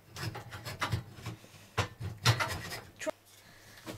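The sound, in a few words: filing wooden slingshot forks with a file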